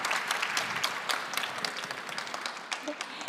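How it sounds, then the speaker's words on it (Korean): Audience applause at a Korean open-innovation talk show, closing the first session: steady, dense clapping from a seated crowd that fills the room throughout, with a faint voice underneath. "큰 박수 보내드리면서 1부 마무리하도록 하겠습니다."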